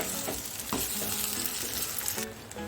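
Potato pieces stirred in a frying pan for a fasting-day dry potato dish, a steady sizzle under repeated scraping strokes of the spoon, close and fairly loud, ending in a brighter burst of frying.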